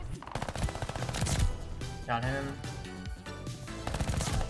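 Rapid ARMAGUERRA 43 submachine gun bursts from a Call of Duty Vanguard match, loud and close, firing in dense strings while a player speaks briefly over them.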